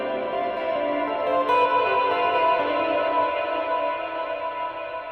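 Electric guitar signal run through a plate reverb effect, a sustained chord ringing with a dense, smooth wash of reflections that hangs and slowly fades, steady and fairly loud with no talking.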